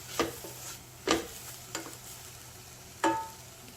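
Sliced onions sautéing in a pan over a low hum of sizzle, with four sharp spatula strikes and scrapes spaced irregularly, close and quiet, no voices.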